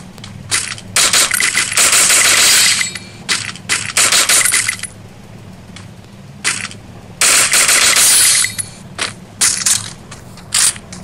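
Rapid bursts of automatic gunfire in a Free Fire battle royale video game, loud and close, coming in repeated clusters with short gaps of quieter game ambience between them.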